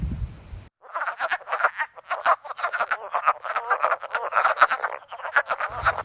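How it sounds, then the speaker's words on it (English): A chorus of wood frogs makes a dense, continuous run of short, duck-like clucking croaks, loud and close with no gaps. "Wood frog."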